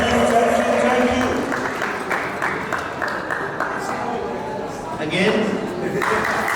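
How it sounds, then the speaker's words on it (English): Wedding guests at a Samoan and Nigerian wedding applaud steadily as a speaker comes on stage, a dense wash of clapping that carries through the whole stretch while voices talk over it. "A round of applause, ladies and gentlemen, keep jamming those hands, jamming those hands."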